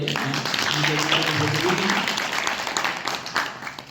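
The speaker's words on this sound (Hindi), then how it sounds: "एक बार इनके लिए भी ताली बजाओ" Applause from an audience at a devotional singing gathering, a dense steady patter of clapping mixed with a sustained voice or music tone underneath, fairly loud throughout.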